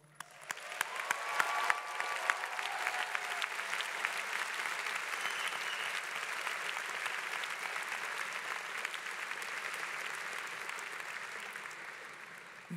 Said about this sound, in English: I would now like to invite the graduating class of 2018 to applaud the people who have made this day and this moment possible.